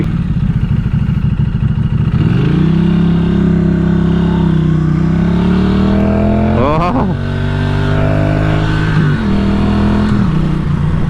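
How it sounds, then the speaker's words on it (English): 2023 Norton Commando 961 SP motorcycle ridden on the road, its loud, close engine rising and falling in pitch through gear changes with a throbbing, vibrating rumble and wind noise, while a rider briefly speaks. "first driving out the dealership impressions are the sound and the vibrations and just the visceral experience"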